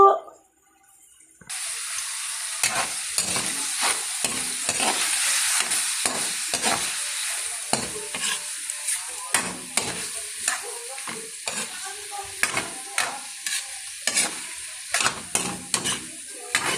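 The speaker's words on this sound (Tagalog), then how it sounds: "Igisa, isama sa paggisa mga kaguro." Mung beans sauté in a hot frying pan with a steady hiss and sizzle, broken by frequent sharp scrapes and taps of a spatula stirring them.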